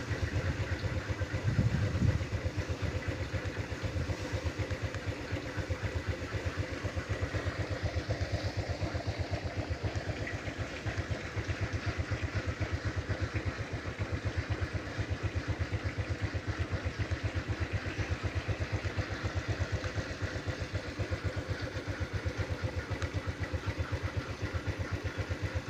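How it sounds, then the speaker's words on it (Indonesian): Motorcycles run over rice left drying on a road, a steady faint engine drone with a rapid rhythmic putter lasting about half a minute, no voices. "tampak para pengendara motor pun juga menginjak padi yang dijemurnya"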